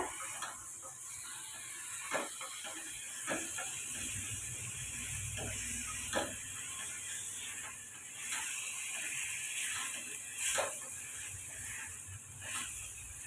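Chicken pieces sautéing with garlic paste in a pan, giving a steady frying hiss broken by scattered clicks and scrapes of stirring, close and moderately loud, with no talking.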